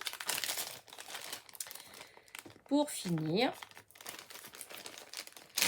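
Plastic packaging around a rubber stamp crinkles and crackles as it is unwrapped, a steady rustle with a few sharper crackles, while a person speaks over it.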